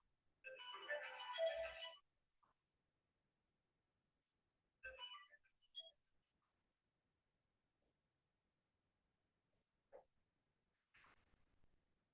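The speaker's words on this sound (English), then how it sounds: "Oh, somebody's phone." A mobile phone ringtone during a quiet yin yoga class, a bright warbling ring for about two seconds, then shorter bursts a few seconds later and faint chirps afterward, distant and soft in a hushed room.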